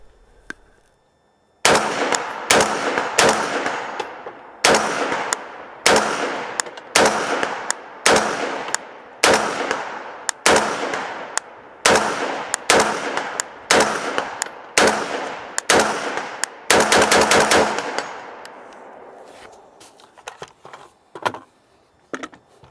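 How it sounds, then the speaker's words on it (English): A rifle with a Ballistic Advantage premium fluted barrel fires about fifteen loud, sharp shots at an outdoor range with steel targets, evenly spaced with some faster pairs near the end, each crack followed by a short echo. "There's some steel over here on the left-hand side."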